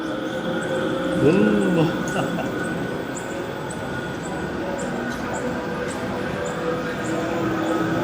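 A Manchester tram rolls along the street past a walker in city traffic, a steady rumble with a brief wheel squeal and a voice murmuring once.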